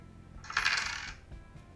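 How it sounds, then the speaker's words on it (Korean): A coin-toss app sound effect plays a single metallic coin drop: a bright ringing clink that shimmers for about half a second and fades, with no talk. "핑그르르 및 땡그랑 같은 효과음 소리도 들리게 됩니다"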